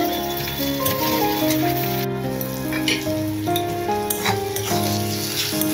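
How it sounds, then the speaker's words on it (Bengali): Onions and chopped capsicum sizzle steadily in a hot pan, a close, continuous crackle with occasional stirring scrapes and sustained tones running underneath. "দেখুন পেঁয়াজ আর ক্যাপসিকাম সুন্দরভাবে ভাজা হয়ে গেছে"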